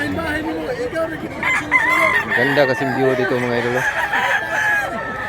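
A rooster crows loudly and close by in a provincial setting, one long drawn-out call with clucking around it, while someone talks over it.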